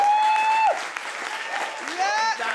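Audience applause for a poet at a poetry performance, a steady burst of clapping under a voice talking over it.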